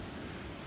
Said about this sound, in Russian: Вот оно море